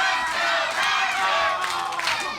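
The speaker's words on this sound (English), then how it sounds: "As the crowd tries to rally behind Roderick Strong." Wrestling crowd at an FIP Heatstroke event cheering and chanting to rally behind a wrestler, loud massed shouts swelling and surging in waves.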